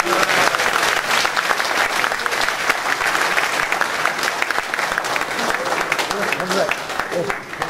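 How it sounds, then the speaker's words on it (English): Sustained applause from a gathering of school alumni, a dense, even roar of many hands clapping at once that holds steady throughout and thins slightly at the very end. "So give him a clap"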